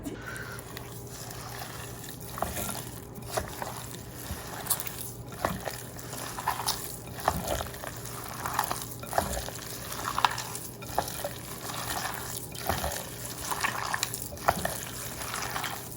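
Minced meat meatball mixture being mixed by hand, with soft wet squelching and squishing in an uneven kneading rhythm, close and moderately loud over a faint steady hum, no speech.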